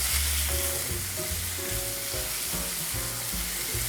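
Cod pieces sear in a hot pan for seafood pasta, giving a dense, steady sizzle and crackle with light stirring scrapes, close and loud, with no talking.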